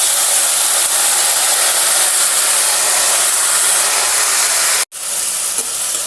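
Ridge gourd pieces frying in oil, giving a loud, steady sizzling hiss that continues unbroken for several seconds, then drops out for an instant before resuming, with no talk over it.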